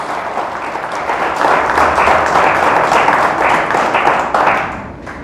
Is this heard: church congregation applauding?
yes